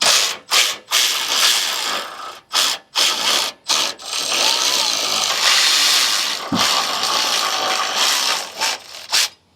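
A 13 mm ratchet works loose the sway bar end link on a Jeep Gladiator, with rapid clicking pawl bursts broken by short gaps at the start and end and a longer continuous ratcheting run between, close and loud, no talk.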